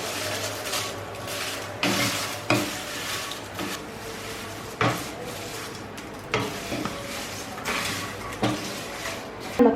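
Fried papadam and chilli being stirred in a pan: steady close sizzle with repeated scraping, clattering stir strokes at irregular intervals, no talking.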